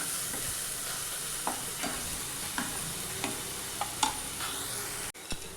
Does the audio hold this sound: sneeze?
no